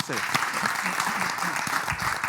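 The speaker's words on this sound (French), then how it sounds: "on applaudit pour ça" Studio audience applause on a Burkina Faso television entertainment show, a steady burst of clapping running the whole moment while a presenter keeps talking over it.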